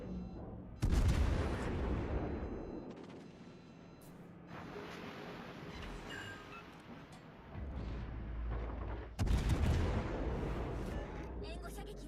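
Naval artillery booms in a battleship video game, with heavy low-end blasts near the start and again around the ten-second mark, rumbling decay and overlapping gunfire, while a voice talks over the action.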